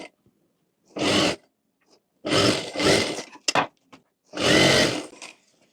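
Sewing machine stitching the lower side of a bridal embroidered blouse, heard in three loud bursts of whirring stitching separated by silence, with short clicks between runs.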